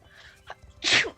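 A single close sneeze, a short inhaled catch followed by a loud burst, in a quiet room near the microphone.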